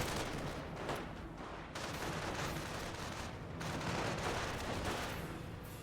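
Mortar blasts and gunfire from a Company of Heroes 1 battle between Panzer Elite and US forces, a dense, steady stretch of overlapping shots and explosions with no clear gaps.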